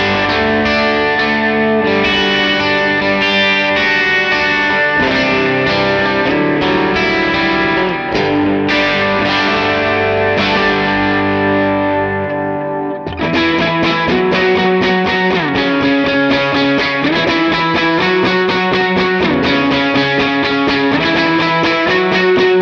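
An electric guitar runs through a Line 6 Helix LT worship-style rig with reverb and delay, ringing chords and picked lines blurring into a wide, shimmering wash, played continuously and alone.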